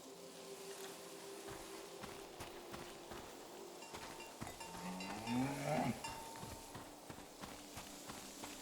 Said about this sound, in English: And the seventh cow's name was Balto.